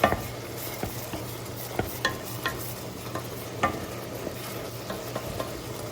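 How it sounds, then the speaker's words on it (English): Oyster sauce is stirred into pad kra pao in a pan, a spatula scraping and tapping against the metal in a loose, repeated rhythm over a low sizzle. No one talks. "Add a tad more oyster sauce. I'm just going to stir to combine."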